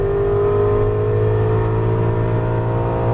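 An Aston Martin V8 Vantage engine pulls hard on a racetrack at Las Vegas Exotics Racing, a loud, steady in-car drone with strong low harmonics rising slightly in pitch under throttle, with no talk.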